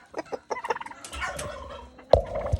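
Turkeys in a farm pen let out several close gobbles in quick, bubbling bursts, with one sharp call near the end, and no one speaks.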